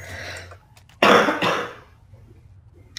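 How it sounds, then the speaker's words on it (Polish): A person suffering from a cold gives one harsh, loud cough followed by a shorter throat-clearing rasp, close to the microphone, then quiet, with a faint click near the end. "A mnie ten kaszel męczy."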